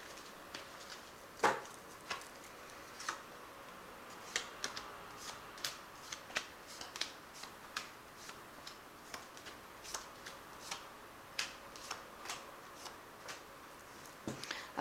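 A tarot deck is cut and shuffled by hand, giving soft, irregular card flicks and taps that repeat over several seconds, faint and close in a quiet room with no talking.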